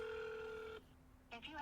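A telephone call to a 1-800-ROUNDUP hotline rings through a handset, a steady tone cutting off before a voice comes on the line, faint and thin.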